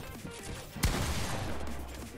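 A single sharp gunshot rings out in Fortnite Chapter 3 Season 1 and cuts through busy game sounds, followed by a lingering low rumble.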